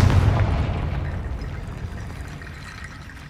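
Confringo blasting spell explosion in Hogwarts Legacy, a loud deep boom at the very start that decays into a long, rumbling tail over about three seconds, with no one talking.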